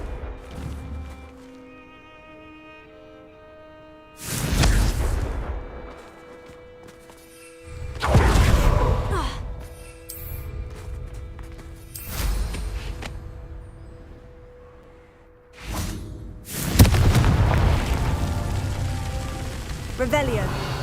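A series of explosive spell blasts from the Confringo fire spell in Hogwarts Legacy, four or five loud roaring bursts spaced a few seconds apart, each decaying into a crackling rumble over a sustained musical background.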